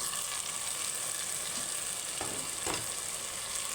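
Chicken fries in a pan with masala and mint, a constant, close hiss of sizzling oil with a couple of brief scraping stirs.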